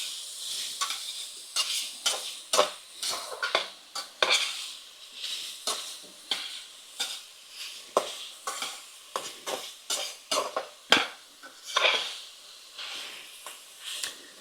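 Garlic and vegetables cook in a pan, giving a close, soft sizzling hiss broken by frequent scraping and stirring strokes in an uneven rhythm, with no talking over it.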